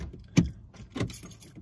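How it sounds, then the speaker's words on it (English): A car's door locks clunk open with a short mechanical thunk, then a second fainter clunk a moment later, close by with light rustling in a quiet space. "Make sure I unlock these doors."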